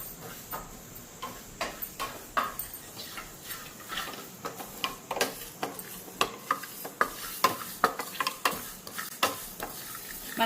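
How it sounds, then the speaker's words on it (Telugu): Coriander, mustard and cumin seeds dry roasted in a pan, with a run of sharp crackles, pops and spoon taps repeating unevenly over a soft background, close and without voices. "ఈ మూడు కొంచెం డ్రై రోస్ట్ చేసుకోవాలి."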